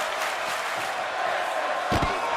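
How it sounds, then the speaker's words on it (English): A virtual arena crowd in the WWE 2K22 wrestling game roars in a steady, dense wash of cheering, loud and continuous, with a couple of faint thuds underneath. "You can hear the crowd appreciated that one."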